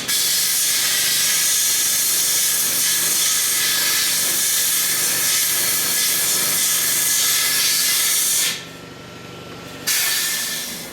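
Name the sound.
high-pressure air blowing through a snow blower fuel tank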